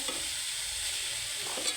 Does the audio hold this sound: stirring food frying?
yes